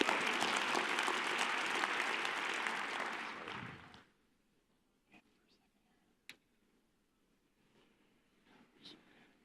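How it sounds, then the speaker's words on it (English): An audience at a Microsoft Ignite 2015 conference session applauds loudly for about four seconds, then the clapping fades out quickly into near silence, leaving a few faint clicks and stray taps. "Come on, give them a round of applause."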